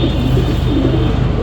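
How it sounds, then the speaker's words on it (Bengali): A home-bred black-necked pigeon cooing close by in low, rolling phrases over a steady rumble of background noise. "হোম ব্রিড একটা কবুতর আমার"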